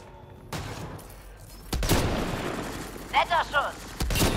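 Mass Effect: Andromeda gameplay with sharp, booming weapon blasts, one near the start and a louder one partway through, separated by a stretch of rumble and a few short chirping game effects.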